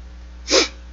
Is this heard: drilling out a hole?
no